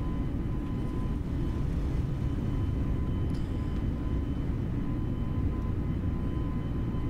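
Airplane taking off in Microsoft Flight Simulator 2020 during a crosswind, a steady loud engine roar with broadband rumble throughout, no pauses.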